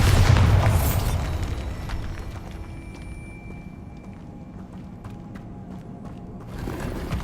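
A Bombarda spell goes off in Hogwarts Legacy with a loud, heavy boom at the start that decays into a long rumbling tail. Scattered small debris and clatter follow, and a fresh rumble swells near the end.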